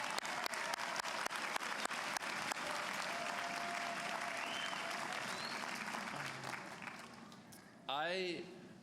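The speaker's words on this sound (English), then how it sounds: "let's get another round of applause." Sustained applause from a large audience fills a college commencement ceremony hall, steady and dense for most of the stretch, tapering near the end as a voice begins over the sound.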